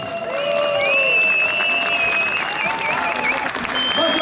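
Audience at a model helicopter show claps in a dense, sustained round of applause, with whistling and chirpy tones from the crowd layered over it.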